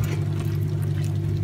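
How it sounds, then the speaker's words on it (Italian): Lukewarm water pours steadily into a pot of simmering vegan white ragù, a continuous, fairly loud liquid rush with no talking. "un po' di acqua, e l'aggiungiamo."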